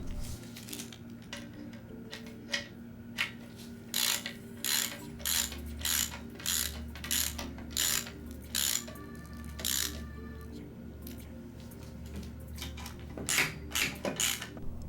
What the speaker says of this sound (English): Using a 12mm socket, snug the nuts using an increasingly tighter crisscross pattern.